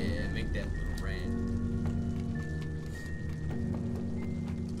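Steady, dense rain keeps falling through the whole stretch in the video game Little Nightmares. The game's tonal music and effects sit on top of it.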